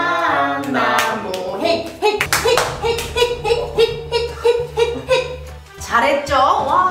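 Applause for two children, Galeo and Hangnam, after their performance of a clapping song game. Irregular hand claps rise and fall under continuous bright voices and some laughter across the whole stretch.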